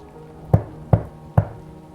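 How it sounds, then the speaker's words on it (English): Three evenly spaced knocks strike a door, each sharp and fairly close, with short pauses between them and quiet in the gaps. "The knocking."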